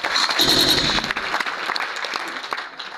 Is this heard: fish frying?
no